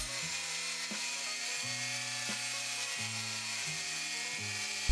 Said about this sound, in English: Now using my wire brush on my rotary tool,